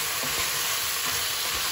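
Minced meat sizzles and spits steadily in a hot pan, with soft scraping strokes of a spoon stirring it every second or so, close and continuous with no talking.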